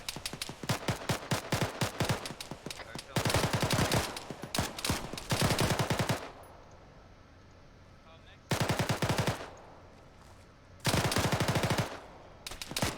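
Rifle and machine-gun fire in a military video game training exercise, rapid bursts of sharp shots in several loud clusters separated by quieter gaps, with faint voices underneath.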